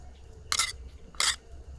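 A spoon scraping and spreading spice-coated prawns in a bowl, two short bright scrapes about three-quarters of a second apart over faint background hiss.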